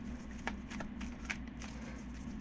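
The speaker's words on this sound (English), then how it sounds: "It's such a difficult deck to shuffle because it's so highly laminated." A highly laminated tarot deck being shuffled, soft quiet card riffles and slaps in a few short bursts over a low steady background hum.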